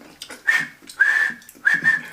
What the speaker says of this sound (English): I can't whistle. I'm trying to whistle.